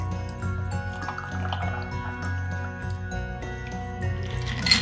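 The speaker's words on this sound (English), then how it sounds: "get your glass and pour it right in." A peppermint White Russian pours from a shaker into a glass, a close trickling and dripping of liquid that grows busier toward the end.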